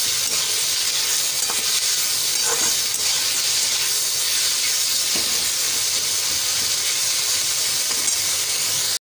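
Onion and tomato pieces fry in a pan for bread upma, giving a loud, continuous sizzle and hiss with occasional stirring scrapes and pops, no talking.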